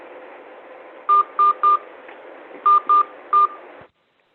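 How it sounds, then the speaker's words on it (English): Six telephone keypad DTMF tones punched in at an uneven pace while a meeting ID is entered on a phone line, loud and close over a faint line hiss. "Enter your meeting ID followed by pound"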